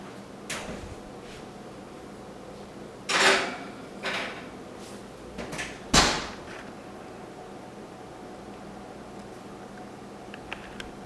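A tray of chocolate chip muffins goes into an oven preheated to 400 degrees, giving a few sharp metallic clunks and clatters of the door and pan, spaced apart in a quiet kitchen with no talk.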